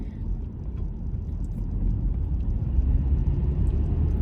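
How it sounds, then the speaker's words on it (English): A truck rumbling close by on the road, a steady low engine drone that fills the scene without pause, with no talking over it. "there's a truck doing weird stuff in front of me"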